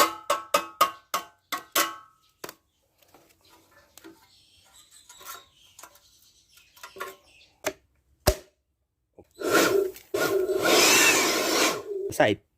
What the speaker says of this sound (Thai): ก็ใช้ค้อนเคาะนะ